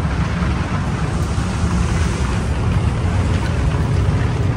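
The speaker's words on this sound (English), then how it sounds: "Still raining, just not as hard as it was." Heavy rain pours steadily onto a flooded campsite at Gamble Rogers State Park in Florida, a dense, continuous roar with no breaks and no voices.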